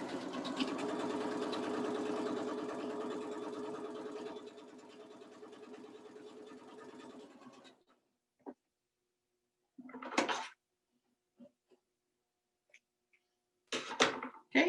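A sewing machine stitches a quilt in one long steady run of about eight seconds that fades off, followed by quiet with a few scattered handling clicks and knocks.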